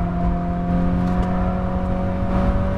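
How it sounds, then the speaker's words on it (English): A 2020 Toyota 86 GT with a 205-horsepower engine held high in the revs in third gear on a race track, giving a steady, sustained whirring engine drone with no talking. "I'm in third gear here. It's quite high up in the revs"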